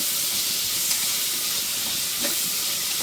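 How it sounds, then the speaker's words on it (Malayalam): Tomatoes added to softened onions sautéing in a pan for a beef roast, a steady broadband sizzle and hiss that is loud and continuous with no talk. "തക്കാളി ഇട്ട് നമുക്ക് നന്നായിട്ട് തക്കാളിയും കൂടി അങ്ങോട്ട് വാട്ടിയെടുക്കാം നന്നായിട്ട്"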